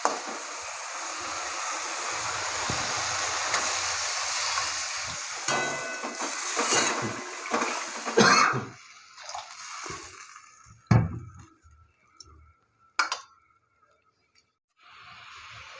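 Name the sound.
water added to fried spices for Bata fish curry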